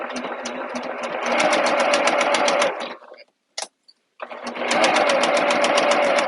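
A sewing machine stitches a seam on a fabric wristlet, running in a fast, steady mechanical chatter close by, stopping briefly in the middle with a couple of clicks before resuming.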